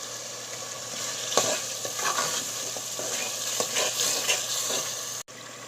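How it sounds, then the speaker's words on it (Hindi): Masala with salt and turmeric frying in a pan for a potato and egg curry, a close steady sizzle with stirring scrapes and a few spoon taps, ending in a brief cut, no one speaking. "मसाले को हमने अच्छे से भून लिया"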